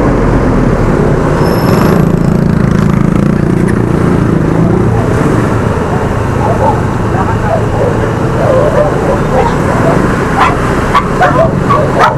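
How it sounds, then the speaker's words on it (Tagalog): An angry dog barks repeatedly amid loud roadside traffic and engine noise, with a few yips breaking through near the end. "Ang galit yung aso eh."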